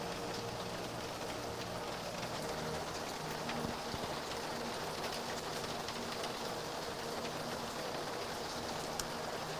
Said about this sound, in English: Yes, Susan, it is raining. I love the sound.